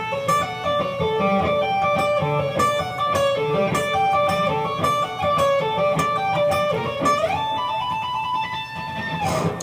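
Electric guitar playing part of a song's solo, a fast run of sustained, bending lead notes that climbs and slides in a continuous phrase, loud and alone.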